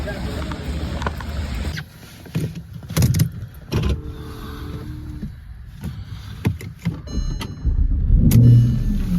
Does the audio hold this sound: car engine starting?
yes